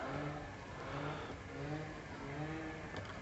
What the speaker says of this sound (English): I don't know who's out there running an engine,